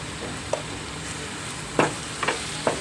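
Ginger garlic paste and curry leaves frying in a pan of oil for potato kurma: a steady bright sizzle with a few sharp crackles and spoon scrapes, close and fairly loud, no voices.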